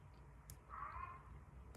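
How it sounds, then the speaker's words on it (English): An elderly indoor cat yowls once, faintly and at a distance, in a brief drawn-out wail over quiet room hum. "Can you hear my cat screaming in the background?"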